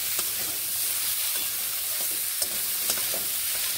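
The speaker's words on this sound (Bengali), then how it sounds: "এবার নুন হলুদ গুঁড়োগুলো মিশিয়ে এইভাবে নেড়ে নিচ্ছি।" Bean curry stirred in a pan with salt and turmeric, giving a steady sizzling hiss with soft scraping strokes throughout, close and even, no talking.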